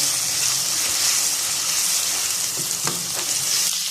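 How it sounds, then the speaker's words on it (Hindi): Ginger garlic paste fries in a pan for mutton biryani, a steady close sizzle and crackle that runs without a break, with a few soft stirring scrapes near the end and no voices. "अब हम इसके अंदर 1 टेबलस्पून अदरक लहसुन का पेस्ट ऐड करेंगे और इसको 1-2 मिनट फ्राई कर लेंगे।"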